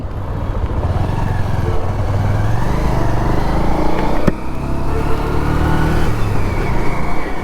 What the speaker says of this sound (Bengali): বাইকের সাউন্ডটা এখন অনেক স্মুথ লাগছে